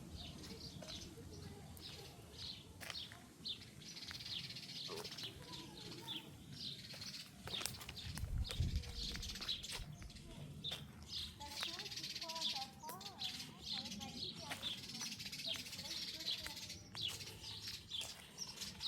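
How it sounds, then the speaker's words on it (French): Birds singing and chirping in a calm garden in Rambouillet, with scattered tweets and cooing under the sound of a person talking nearby. "le chant des oiseaux et tout,"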